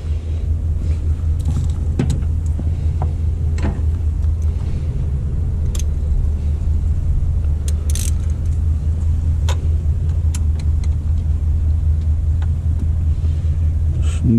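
Chevy Trailblazer engine with a failing water pump running steadily close up, a constant low rumbling drone with faint metallic grinding and scattered light ticks throughout, no talking.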